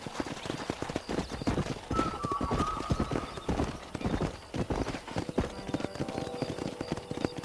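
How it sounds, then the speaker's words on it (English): Rapid hoofbeats of several wild horses galloping nearby in the video game Red Dead Redemption, with occasional whinnies and a steady busy rumble underneath, no talk. "there's a pack of wild horses nearby"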